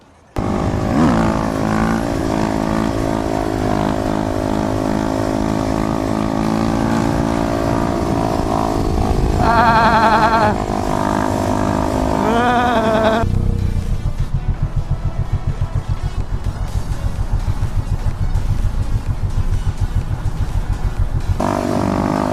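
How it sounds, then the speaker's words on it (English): A supermoto motorcycle is ridden close by, its engine droning steadily and rising in pitch as it accelerates, then shifting to a lower, rougher throb partway through, loud throughout with no talking. "we'll take the bike for a little rip"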